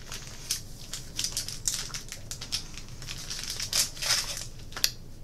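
Foil Pokémon XY booster pack wrappers crinkle and tear open up close, a steady run of sharp rustling bursts with a few louder crackles, no talk.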